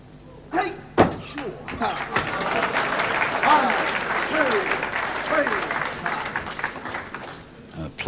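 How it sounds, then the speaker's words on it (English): A quiet wrestling crowd at a World of Sport bout applauds in scattered, uneven bursts, with sharp thuds and slams from the ring cutting through and a commentator talking over the clapping. "Applause for Kirkwood to get out."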